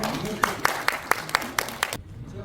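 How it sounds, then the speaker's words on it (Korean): Scattered hand claps from a small crowd at a New Year forum gathering, a handful of sharp separate claps at a steady pace over a murmur, stopping abruptly. "여러분 박수 부탁합니다"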